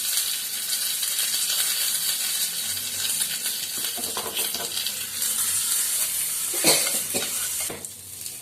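Green chilies and curry leaves hit hot oil in a pan and sizzle steadily, with a bright hiss and a few stirring scrapes and clinks close by.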